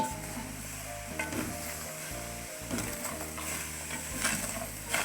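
Chopped onion stirred in a frying pan for aloo gobhi, a constant hiss of sizzling oil broken by repeated scraping and clinking of a spoon against the pan, close up with no talk.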